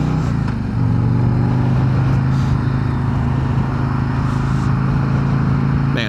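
A Harley-Davidson Street Glide motorcycle on the road, its engine a loud, steady low drone with wind rush, holding a constant note throughout the ride.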